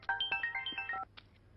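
A phone ringtone sounds for an incoming call, a bright repeating electronic melody of rising and falling notes, fairly close and clear, lasting about a second before cutting off.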